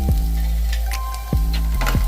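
Ginger and garlic frying in hot oil for a Burmese egg curry, a soft steady sizzle with a low hum underneath and a few sharp clinks or stirring taps scattered through, with no speech.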